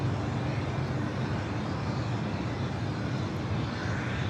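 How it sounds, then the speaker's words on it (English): An Asiana airliner taxies at LAX airport, a steady broad jet-engine rumble and hiss held at moderate distance without change. "All right, we got Asiana now taxiing."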